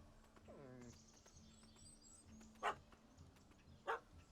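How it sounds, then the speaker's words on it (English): A dog in The Witcher 3: Hearts of Stone, trying to jump up at a man, gives a short yelping bark with rising tones, followed by ambient game sounds, birdsong and two sharp distant impacts. "The dog is trying to jump up and get him."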